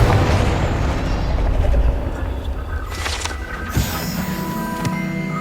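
Confringo fire spells burst in Hogwarts Legacy, a dense rumbling blast up front followed by sharper crackling impacts and game effects, loud and close with no talking.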